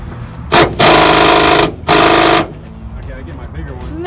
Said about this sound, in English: I'm taking off lug nuts with this thing